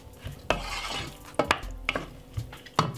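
Vegetable pasta with olive oil is stirred in a pan, giving close scraping swishes and light clinks of the utensil in uneven strokes, over a faint sizzle. No one talks.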